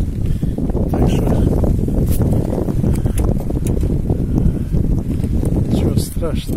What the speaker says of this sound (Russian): Ветер не прекращается.